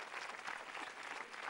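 Studio audience applauding on a Tamil television game show, a steady dense wash of clapping with no break throughout.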